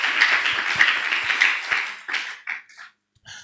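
A church congregation at a ministers' retreat claps hands in a loud burst of applause that thins out into a few scattered claps and fades to near silence.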